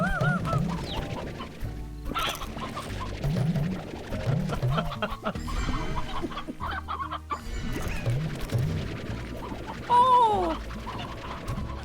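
Chickens in the video game Slime Rancher cluck and squawk repeatedly in an irregular stream over game music and effects, with a brief spoken exclamation partway through.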